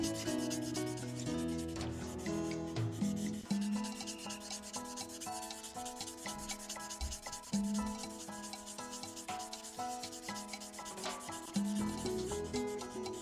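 Rough, scratchy rubbing across the rough primed body of a 1968 Corvair model car in repeated strokes, close up, with music playing underneath.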